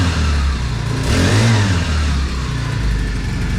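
A small engine fitted to a kids' Little Tikes pirate ship bed revs up through a throttle cable, climbing in pitch and then settling back to a steady idle, close and alone.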